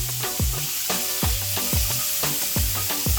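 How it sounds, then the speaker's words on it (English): Meat sizzles in a frying pan while being stirred, a constant hissing fry broken by rhythmic scraping strokes of a utensil against the pan roughly every half second, close and clear with no talking. "So while we stir our meat, we can work our polydiddles."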